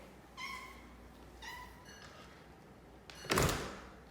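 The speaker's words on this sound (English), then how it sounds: "this cat only wants us for one thing." A house cat meows twice, clear and close, about a second apart, wanting to go outside, followed by a loud door opening with a thump after a short pause.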